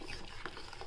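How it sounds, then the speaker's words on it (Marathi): A spoon stirs thickening rice pudding (kheer) with chopped cashews and almonds in a cooking pot, giving a soft, steady scraping and sloshing texture that runs continuously at low volume with no voices. "हलवूया."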